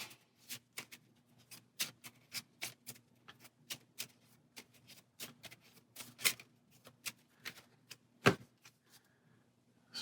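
Cards from the Star Wars: Outer Rim board game being shuffled by hand, a quick run of crisp riffling snaps and soft slides, close and clear with no voices, ending in a sharper slap.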